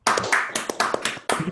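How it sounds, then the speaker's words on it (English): Virtual applause from an online audience just unmuted at the close of a remote talk: several overlapping bursts of clapping and tapping from different microphones, uneven and choppy, close and fairly loud, with no talk over it. "Real virtual applause."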